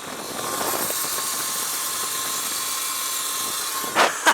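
A Light Bee electric supermoto riding a track lap in low power mode, a steady whining motor hum with wind rush, ending with two short louder bursts.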